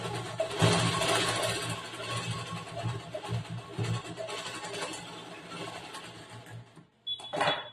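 Sewing machine stitching the lining of a blouse with a back neck design, a steady rapid mechanical whirring and clatter that runs for several seconds, slows and stops briefly, then a short final burst.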